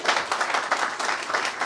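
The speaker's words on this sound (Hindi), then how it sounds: "इसके लिए भी ताली होनी चाहिए।" Audience applause at a large Hindi-language political rally, a dense steady wash of clapping from a crowd, loud and sustained throughout with no speech over it.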